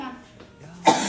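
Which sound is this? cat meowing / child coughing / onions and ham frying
child coughing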